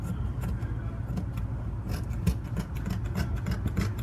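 Scissors cut through shirt fabric with a rapid, rhythmic series of close, crisp snips over a low background hum.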